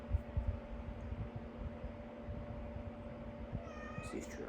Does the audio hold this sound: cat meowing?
yes